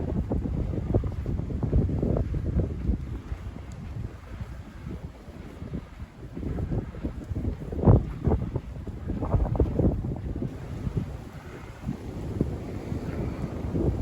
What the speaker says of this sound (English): It's so windy that the river's getting white caps on it.